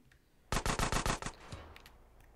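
Gunfire in the game GTA San Andreas: a rapid burst of about eight loud, evenly spaced shots, followed by one fainter shot and a quiet tail.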